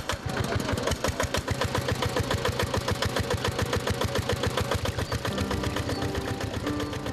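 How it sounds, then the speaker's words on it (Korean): Engine-driven water pump running steadily at a sugarcane farm, its motor beating in a fast, even, loud mechanical rhythm throughout. "저 멀리 수로에 연결된 파이프를 끌어다가 펌프에 연결해 엔진을 돌린다."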